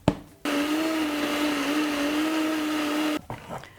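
A blender whirs loudly and steadily for about three seconds while purée of red cabbage spread is being blended, then it cuts off and leaves a few soft handling knocks.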